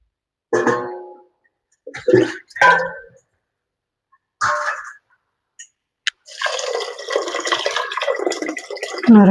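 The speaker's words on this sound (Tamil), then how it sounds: "இதுக்கு தேவையான தண்ணி நம்ம ஊற்றிக்கலாம்." A few short bursts of talk in Tamil, then water pours steadily into a cooking pot for several seconds, splashing continuously.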